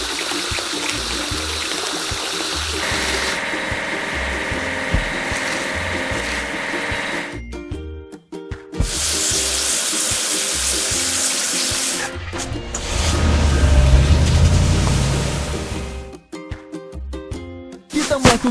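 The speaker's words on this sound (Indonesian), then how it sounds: "Sekarang kita perlu mencucinya bersih, pengaduk semen." Water spraying over a cement mixer truck in a video game, a continuous rushing hiss that shifts in tone, cuts off briefly, then returns with a deeper gushing stream.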